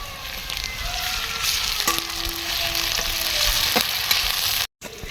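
Onions with ginger-garlic paste fry in a pan with a continuous close sizzle, broken by a few scraping stirs and one short cut near the end, and no talking.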